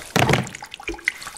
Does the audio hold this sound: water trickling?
yes